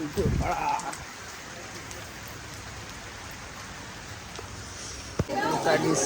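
Steady rain patters on surfaces at the Shri Swami Samarth temple in Akkalkot where devotees queue, with people talking briefly at the start and end.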